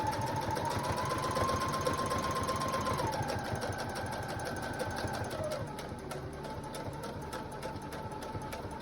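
A domestic sewing machine runs steadily while stitching back and forth to lock the threads on a fabric clothing cover, its fast mechanical hum continuous and close, shifting pitch slightly midway with no talking.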